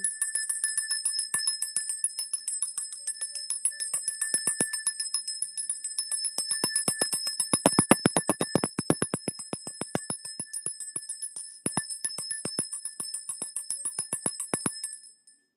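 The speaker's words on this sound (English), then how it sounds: "Let's ring this bell." A bell rung by hand over and over, with bright ringing strikes that come quickly, some in dense clusters, and no voices over them.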